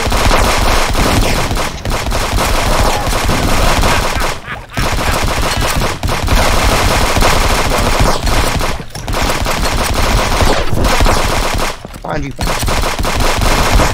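Rapid bursts of video game gunfire, mixing automatic fire with single shots, play loud and nearly continuous with brief pauses, while several players talk excitedly over it.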